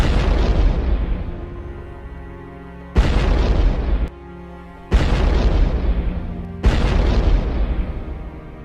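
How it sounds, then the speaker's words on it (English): Three loud booming explosions in a row from FPV drone strikes on ATVs, each a sudden blast with a long rumbling tail. All are close and heavy, and no voices are heard. "The camera captures the perfect moment of lock-on before the devastating final explosion"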